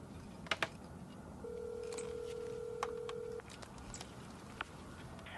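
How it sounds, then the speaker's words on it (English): A telephone number is dialed on a phone in a quiet room, a short series of crisp tones and clicks spread irregularly across a few seconds, with a low background hum. "I think I dialed the wrong number"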